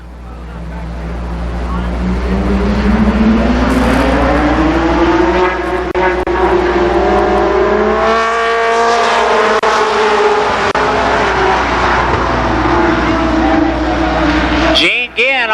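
Late model stock cars roar around Columbus Motor Speedway in a ten-lap first heat race. The engines drone loud and continuous, rising and falling in pitch as the pack sweeps past, with a brief sharp burst at the end.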